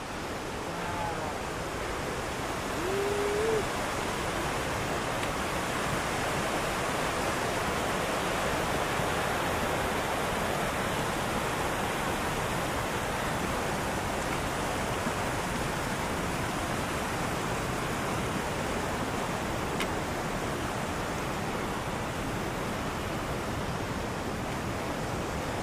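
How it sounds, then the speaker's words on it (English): Waterfall near a backcountry campground on the Brazeau Loop in Jasper, a constant, full roar of rushing water that stays steady and fairly loud throughout. "our campground is just up there looking at this gorgeous waterfall."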